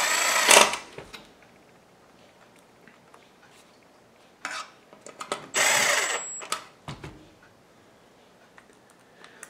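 Screws being driven back into a BenQ PE8700 projector power supply, heard as a few separate short whirring bursts with quiet handling clicks in between, close and moderately loud.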